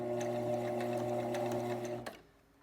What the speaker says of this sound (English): I'm gonna sew forward just to the end of my Velcro, and now I'm going to go backwards,